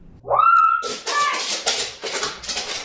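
A dog whimpers and yelps on a live stream, a rising whine followed by a run of sharp, close, uneven cries and scuffles.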